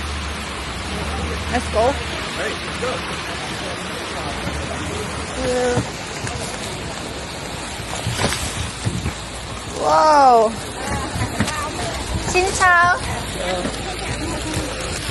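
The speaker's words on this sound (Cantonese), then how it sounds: "超級大雨，啲雨粒係好大粒嘅而家" Heavy rain with very large raindrops pours steadily during a bamboo boat trip in Ha Long Bay, a dense close hiss with splashes, while people talk and exclaim over it.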